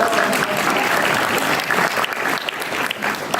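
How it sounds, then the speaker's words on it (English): Sustained applause from a large audience, steady clapping filling the room with a few louder bursts, no voices standing out. "I'll pause for applause if I have to cue you."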